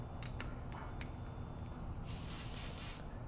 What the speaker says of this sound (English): So I'll just go give you a quick spray here.